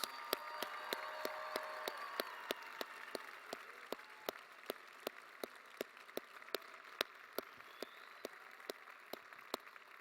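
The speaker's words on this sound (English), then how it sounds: "Let's give them one more really big round of applause" Applause from an audience at a scholarship reception swelling early, then thinning into scattered, sharp individual claps that continue steadily to the end.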